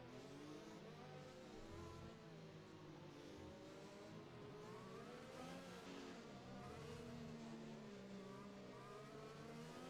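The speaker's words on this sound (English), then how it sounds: "You can hear him revving his engine." A race car in a racing video game revs its engine hard before a restart, a continuous rising and falling roar over ten seconds with other cars droning in the background, heard alone without talk.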